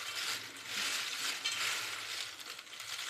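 Crispy raw banana wafers tossed with spices in a bowl give a steady dry rustle and crunch, close and fairly loud, with no voices.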